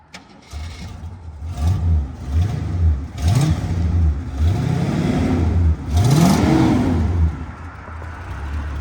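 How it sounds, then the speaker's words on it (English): A car engine revving repeatedly through a newly fitted loud exhaust, rising and falling in pitch with each blip, close and rumbling, with slight spitting at the exhaust manifold. "You can hear that exhaust spitting up there at the manifold just a little bit."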